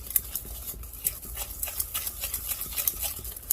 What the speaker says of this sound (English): Mix all that up.